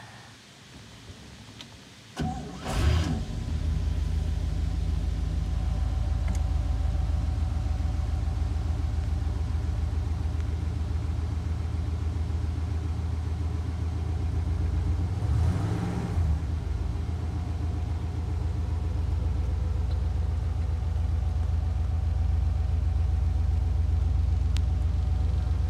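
A 1961 Oldsmobile Dynamic 88 V8 starts up after a brief crank, then settles into a steady, deep, rumbling idle heard close by, with one short rev or swell midway and no talking.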